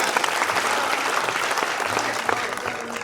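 Audience at a poetry recital bursting into sustained applause, dense clapping from many hands filling the room at a steady level before tapering slightly at the end.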